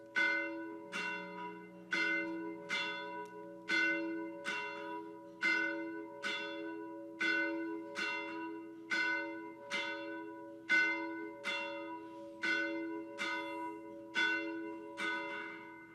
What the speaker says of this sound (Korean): 그런 마음으로 우리 타종하는 준비라도 하겠습니다